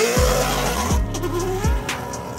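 A loud, high-revving Ferrari V8 engine in a rally car roars and downshifts in quick bursts, with tire squeal and skidding noise as the car is driven hard nearby.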